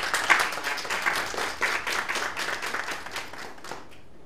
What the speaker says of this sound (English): let us now have a round of applause for Mr. Dean Roy Bernard